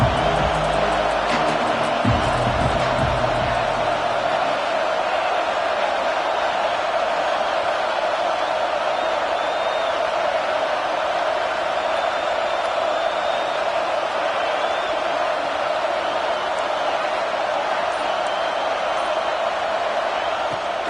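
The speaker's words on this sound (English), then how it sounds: "Listen to this crowd noise. This stadium is vibrating." A huge stadium crowd at a Florida State vs Notre Dame American football game roars steadily, a dense wall of cheering that never lets up.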